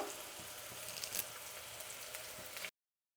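Chopped onion and curry leaves frying in hot oil give a dense, close crackling sizzle, steady and moderately loud, before cutting off abruptly.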